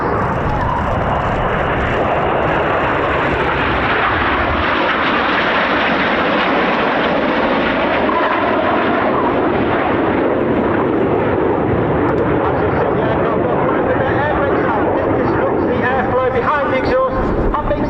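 Red Arrows jets roar loudly and continuously through rollback manoeuvres at the RAF Cosford Air Show, a broad, sustained engine rumble that swells and shifts as the aircraft pass, with a commentator talking over it.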